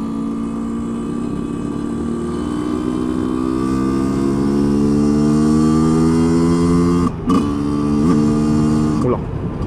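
A motorcycle engine revs up in a long climbing whine during a track ride, then a badly timed gear shift cuts it out abruptly, followed by a second rev and another sharp break, loud and close.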